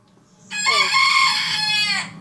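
A loud, drawn-out chicken squawk in Resident Evil 4, lasting about a second and a half, harsh and ringing, with no talking over it.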